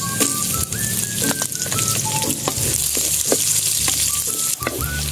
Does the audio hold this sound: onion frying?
yes